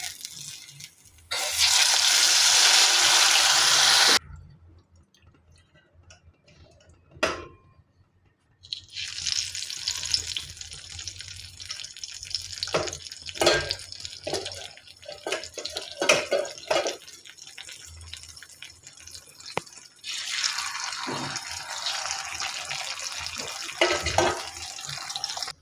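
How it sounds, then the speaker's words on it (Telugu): Fish pieces frying in a pan for a Telugu-style fish fry, giving a loud, steady sizzling hiss in a short burst, then a pause, then a long continuous sizzle with scattered crackles and pops. "చేప ముక్కలు వేసేసుకున్నాను. ఈ దోరగా వేగనివ్వాలి."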